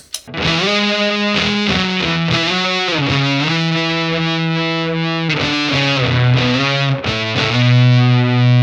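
A Telecaster electric guitar plays through a fuzz pedal with heavy, buzzing distortion, thick sustained notes and chords shifting continuously, loud and up close.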